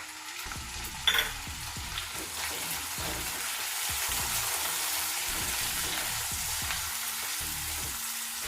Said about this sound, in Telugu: ఈ ఉల్లిపాయ ముక్కలు మనకు బ్రౌన్ కలర్ వచ్చే వరకు వేయించుకోవాలి